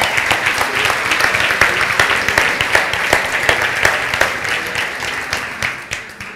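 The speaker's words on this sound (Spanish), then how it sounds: "¿Por qué no aplauden al Señor?" A church congregation at Iglesia Viña Las Condes applauds, dense steady clapping from many hands filling the room, loud and continuous before thinning near the end.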